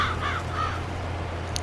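Several crows cawing, a few harsh calls in quick succession at moderate distance over a steady low engine-like hum, then a brief faint high chirp.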